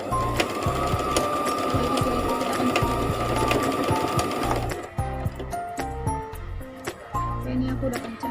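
Sewing machine stitching tightly stretched elastic for a hijab scrunchie, a fast steady close-up mechanical whirr that stops briefly then resumes in short clattering bursts.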